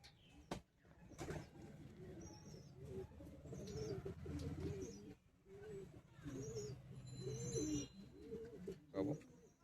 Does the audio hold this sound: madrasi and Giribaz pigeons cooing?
yes